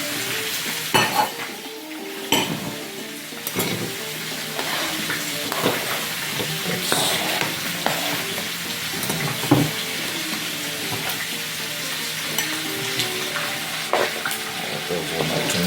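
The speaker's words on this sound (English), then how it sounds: "I'm just waiting on the pork now to completely fry the way I want it to" Pork stir-frying in a pan for a Caribbean-style dish, a steady close sizzle with occasional sharp clicks and scrapes of utensils against the pan throughout.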